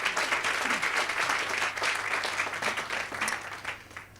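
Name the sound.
audience applause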